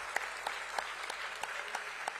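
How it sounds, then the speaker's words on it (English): An audience applauds at a stock exchange listing ceremony for a company. The claps are moderate and fairly even, with a few sharper hits standing out. "Let me hear a big round of applause"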